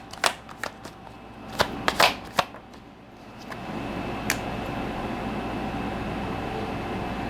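Tarot cards shuffled by hand in a few quick riffling bursts early on, then a steady hiss of room noise with one more brief card snap, close and moderately loud, no talking.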